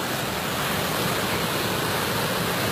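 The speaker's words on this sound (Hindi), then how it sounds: "पानी दी छलां वेखो इस पानी की स्पीड" Fast water rushing through a canal at Jaranwala, a loud, steady broadband roar with no pauses, close by and unbroken throughout.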